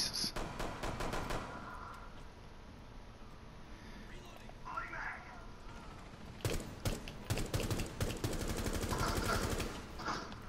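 Rainbow Six Siege gunfire, quiet overall: a burst of sharp shots at the start, then a longer cluster of rapid shots later, with hushed talk and clicking in between.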